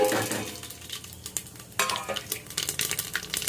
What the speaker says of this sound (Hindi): ये खाली जीरे और तेज पत्ते से लगाते हैं तड़का